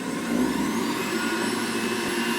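Electric juicer motor running on its low setting, a steady close whirring hum with a faint whine, continuous and alone for a couple of seconds.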